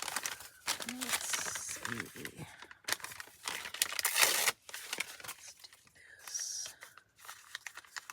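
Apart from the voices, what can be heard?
packing paper being crumpled and torn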